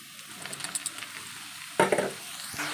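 Mustard seeds and onion fry in hot oil in a home kitchen, giving a soft crackle with small popping bursts, then a louder, sharper sizzle near the end.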